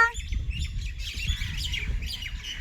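Harsh bird calls repeat over a steady wash of outdoor noise, like crows cawing at a moderate distance, with no talking.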